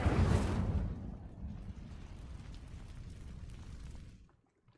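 Burst of flame as the Incendio spell ignites dry vines in Hogwarts Legacy, a loud whooshing blast at the start settling into a lower crackling rumble that fades out.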